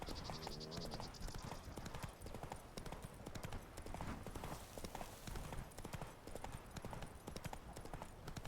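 Horse hooves clip-clop steadily while a rider travels in The Witcher 3: Blood and Wine. The rhythmic hoofbeats continue throughout under a dense wash of game ambience.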